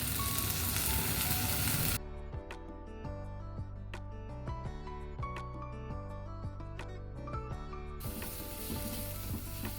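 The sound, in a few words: shallots and crushed garlic sautéing in a pan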